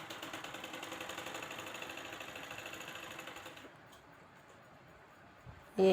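A sewing machine stitches a seam on a loose palazzo, a fast steady mechanical whir running continuously at moderate level before stopping abruptly, leaving quiet room tone and a brief knock at the end.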